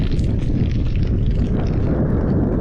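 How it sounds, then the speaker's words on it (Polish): Strong, gusty wind of a storm with horizontal rain on the Route des Grandes Alpes roars steadily and loudly across the microphone, a dense buffeting rumble with no pauses and no voices. "zerwał się wiatr."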